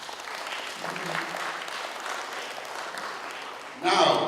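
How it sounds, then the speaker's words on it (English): A crowd at a conference in Melbourne claps steadily at a moderate distance, with sustained applause that ends as a voice cuts in at the close. "A round of applause, please."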